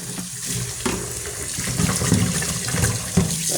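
Hot water runs steadily from a tap onto items being washed, a close, broadband splashing rush with small surges as hands move under the stream, no talking.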